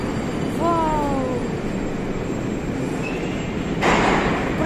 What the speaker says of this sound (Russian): новогодний поезд на станции, проспект Мира, кольцевой линии.